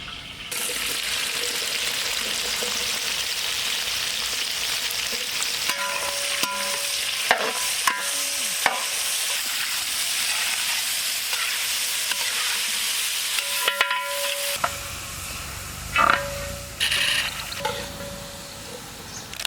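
Sliced onions frying in a pot of mutton stew (Hyderabadi marag) after green cardamom: a continuous close hiss of sizzling oil, broken by scraping stirs and a few clinks of a spoon against the pot.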